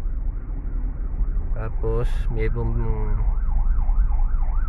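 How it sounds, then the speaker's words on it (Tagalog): An ambulance siren wails along a street in Mayapyap, its rising and falling tone steady over traffic rumble while someone talks nearby for part of it. "mayroong ambulansya"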